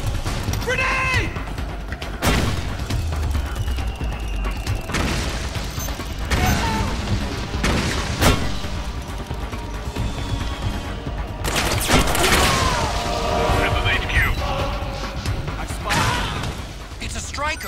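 A grenade blast in Metal Gear Solid 4 booms loudly amid repeated game gunfire and crashes, several heavy broadband bursts scattered across a busy battle soundscape, with voices talking over the action.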